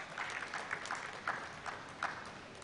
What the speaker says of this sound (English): Thank them with a round of applause, please.